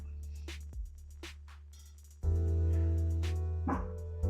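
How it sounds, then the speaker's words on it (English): A dog barks a few times in a home during a casual livestream, sharp isolated barks and yips at moderate distance, followed by a louder sustained stretch of background noise. "the dog started barking"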